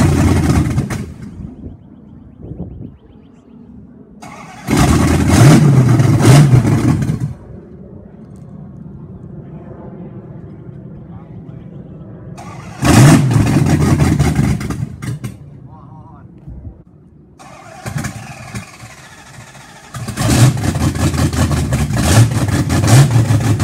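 Old car named Betsy, freshly given an oil filter change and transmission fluid, with an engine that idles low and then revs in several loud bursts, separated by quieter idling stretches.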